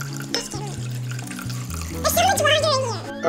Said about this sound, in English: add another 2 cups of water